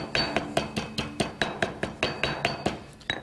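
White peppercorns are pounded in a mortar with a pestle, giving a quick, even run of about fifteen sharp, hard knocks, close and loud.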